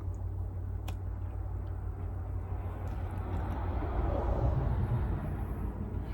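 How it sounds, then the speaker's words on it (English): Traffic on a busy street rumbles steadily at moderate volume, a continuous low roar of passing cars that swells slightly toward the end, with no voices. "I'm sorry about any traffic noise."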